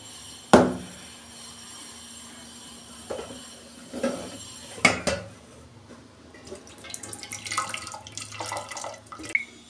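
Cooked home-style chicken curry tipped out of a pot after pressure cooking with potatoes: a few sharp metal clanks of the pot, then a wet, sloshing pour that grows busier toward the end.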